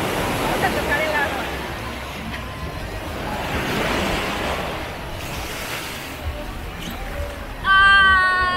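Sea water washing onto Mismaloya beach in Puerto Vallarta, a steady broad rush of surf close by, with a louder splash near the end.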